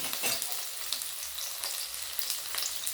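Onion sizzling in hot oil in a kadai gives a loud, continuous close-up crackle, with a few sharper pops and faint stirring scrapes woven through the hiss.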